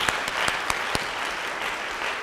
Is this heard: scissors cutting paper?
no